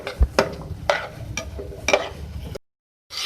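Moong dal samosa filling with cumin powder and crushed coriander being stirred in a pan, giving a few scraping strokes and light clinks over a soft background, close by and moderately quiet, with a brief silence near the end.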